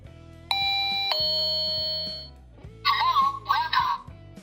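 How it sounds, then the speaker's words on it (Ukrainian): A two-tone electronic door chime from a 7708 motion sensor alarm rings out, ding then dong, followed by short warbling electronic tones over faint background knocks. "і чайм буде вітати відвідувачів."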